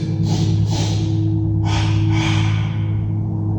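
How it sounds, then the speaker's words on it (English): Two quick, sharp breaths drawn in through the nose, then two short, forceful exhales through an open mouth, close up over a steady low hum. "It's 2 short, sharp inhales through your nostrils, followed by 2 short, sharp exhales through your open mouth."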